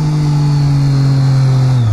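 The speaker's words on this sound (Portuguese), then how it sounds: "E o ronco? É, 3 cilindros," A Triumph Daytona 675 R three-cylinder motorcycle engine holds a loud, steady, close rev with a strong low hum, then drops sharply at the very end.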